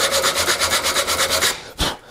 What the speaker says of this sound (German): Und die Faser könnt ihr jetzt entweder per Hand dran schleifen.